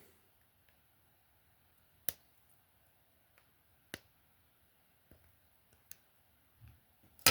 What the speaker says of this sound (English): And we just cut that little lip off